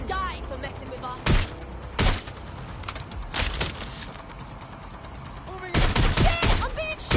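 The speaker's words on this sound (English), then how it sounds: "I'm being shot at!" Bursts of gunfire crack out in Watch Dogs: Legion, sharp loud volleys separated by short pauses with a dense cluster near the end, while people shout and talk between the shots.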